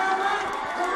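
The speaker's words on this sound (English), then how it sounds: "Nice response from the crowd." A fight crowd cheers for an Alabama fighter with local support, a brief, dense roar of many voices in a large arena.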